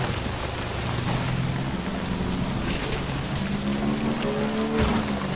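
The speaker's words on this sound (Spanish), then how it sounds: "está cayendo mucha lluvia" Heavy rain pours steadily in the video game Death Stranding, a dense continuous hiss with low engine-like hums from a motorbike drifting underneath and no talking.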